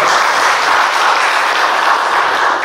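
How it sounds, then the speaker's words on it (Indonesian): A crowd at a youth rally in West Nusa Tenggara applauds for the proposed Pulau Sumbawa province, loud, dense and continuous clapping close by with no pause. "Tepuk tangan untuk provinsi Pulau Sumbawa."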